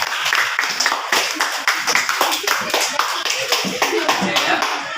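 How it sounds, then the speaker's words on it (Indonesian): Students in a classroom clap their hands together in a dense, steady round of applause lasting the whole moment, close and fairly loud. "Tepuk tangan dulu."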